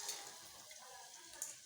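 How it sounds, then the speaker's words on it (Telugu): Fenugreek seeds, urad dal and peanuts fry in hot oil in a pan, a soft, continuous sizzle with brief stirring scrapes and clinks, faint and close. "ఆయిల్ వేసాను, కొన్ని మెంతులు, కొంచెం మినపప్పు, అలాగే కొన్ని శనక్కాయ పప్పులు"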